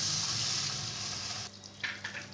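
Chopped onions and capsicum sizzling in a pan as water is added, a loud, bright hiss that abruptly drops off, followed by a few softer spits and crackles.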